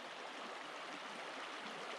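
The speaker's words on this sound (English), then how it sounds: "This may be another section of Mountain Creek" Mountain Creek, a woodland stream along a backcountry trail in Yellowstone, rushes steadily as a dense, even broadband wash with no pauses, close and constant.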